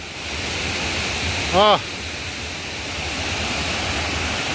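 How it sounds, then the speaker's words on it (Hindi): The Langvoku waterfall in Karbi Anglong roars as a steady, broad wash of rushing water from nearby, with a short whistle-like chirp briefly cutting through. "पहुंच गया फाइनली वाटरफॉल पहुंच गया"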